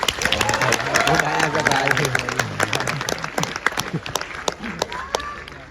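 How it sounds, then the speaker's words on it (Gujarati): An audience bursts into applause, with dense clapping strongest at first and then thinning to scattered claps, while voices speak over it. "બહુ જ બધી તાળીઓ થવી જોઈએ"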